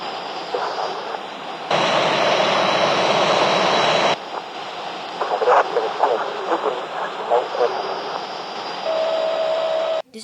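An F-14 Tomcat jet roars steadily in a flight video game near an aircraft carrier, a loud continuous engine drone that jumps in intensity and shifts, with sharp clicks and a brief tone near the end.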